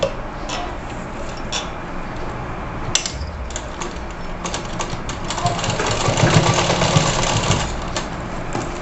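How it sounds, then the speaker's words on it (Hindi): A sewing machine stitches lace onto a net blouse, a steady rapid mechanical whir with ticking clicks running throughout, close and moderately loud, growing slightly busier toward the end. "इसके ऊपर से इस तरीके से हम सिलाई लगाएंगे"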